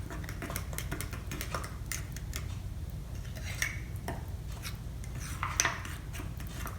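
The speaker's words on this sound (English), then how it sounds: "So you can just continue mixing it, just like this, until you have this cake batter type of condition." Cake batter being mixed in a bowl, with a steady run of scraping, ticking utensil contacts close up and a couple of sharper knocks against the bowl.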